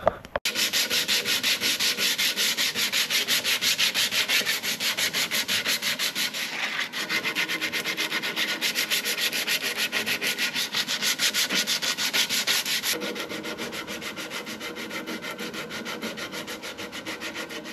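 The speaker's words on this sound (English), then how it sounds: "So now it's just a lot of sanding by hand." Steady, rhythmic hand sanding of ripple ash wood for a footstool, a continuous raspy scratching stroke after stroke, close and loud, easing slightly softer toward the end.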